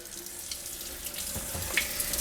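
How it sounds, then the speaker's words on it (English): Warm water streams steadily from a kitchen sink tap over items being rinsed, a continuous close, even splash with no talking. "So what I like to do is run these things under the water. I use warm water."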